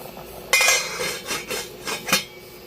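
Metal lid set back onto a pot of sinigang na tawilis, a Filipino sour fish soup, giving a sharp clattering clink followed by a few lighter rattles and taps as it settles, close and alone.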